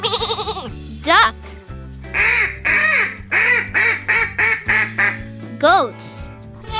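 A duck quacks in a quick series of about eight nasal calls, close and loud over playful children's music, with brief sweeping effects around them.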